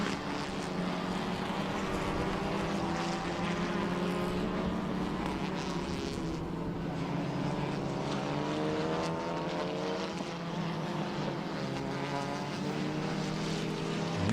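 TCR touring race cars on the final lap at Rosario, engines droning steadily at a distance with slowly shifting pitch as cars pass, a continuous blended roar with no clear voices.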